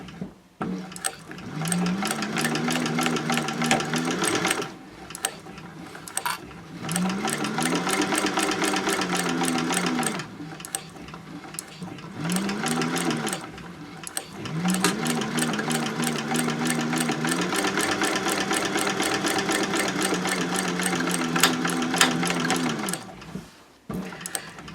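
Domestic sewing machine stitches the boxed corners of a fabric caddy at a 4.0 stitch length, its motor whirring steadily in several long runs with short pauses between, close and clear with no talking.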